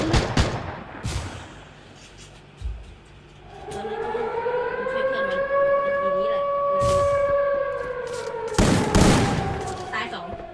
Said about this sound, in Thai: โดนยิงจากด้านบน